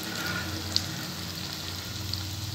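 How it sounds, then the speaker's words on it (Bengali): Cabbage frying in a pan for chilli soyabean gives a steady, close sizzle throughout, with a couple of small sharp pops and no talking. "প্রথমে বাঁধাকপিটা আমি একটু ভেজে নিচ্ছি, এরপরে আমি ক্যাপসিকামগুলো দেব।"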